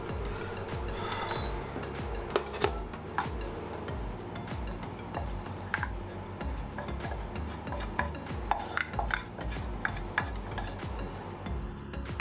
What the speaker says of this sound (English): Just a low heat, but do keep an eye on them and give them the occasional stir.